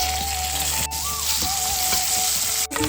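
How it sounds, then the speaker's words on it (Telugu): Turmeric and ginger-garlic paste fry in a pan for a gonguda dal, giving a steady, loud sizzle with a brief clatter near the start and end. "పసుపు, అల్లం వెల్లుల్లి పేస్ట్ వేసి బాగా ఫ్రై చేసుకోవాలి."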